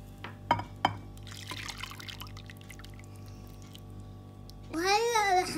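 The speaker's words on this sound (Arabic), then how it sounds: "وهلأ رح نضيف الحليب على الكاكاو والزبدة" Milk poured onto cocoa and butter for no-bake chocolate biscuits in a home kitchen, heard as a short, close liquid pour near the end, preceded by a few sharp clinks and soft background chatter.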